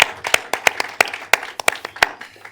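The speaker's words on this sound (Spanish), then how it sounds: "un aplauso por nuestro..." A small audience at a technology and neuroscience talk claps for a speaker, sparse and uneven individual hand claps in a loose irregular rhythm, close and fairly loud, thinning out over a couple of seconds.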